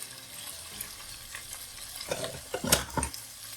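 Shrimp fry in grapeseed oil in a pan, a soft, faint sizzle with a few louder clatters and scrapes as they are stirred, close by and otherwise quiet.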